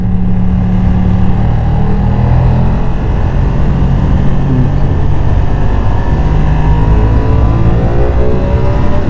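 A Ducati Streetfighter V2 motorcycle engine howls continuously while being ridden on the road, loud and close, with a dense rising drone and wind rush filling the whole stretch.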